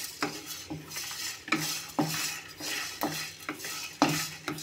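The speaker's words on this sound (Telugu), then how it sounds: "వేసుకుని మీడియం ఫ్లేమ్లో పెట్టి వేపుకోవాలండి." Cloves, cinnamon sticks and cardamom pods frying over a medium flame in a village kitchen pan, with a soft steady sizzle broken by repeated close scraping and clinking of a metal spoon stirring against the pan.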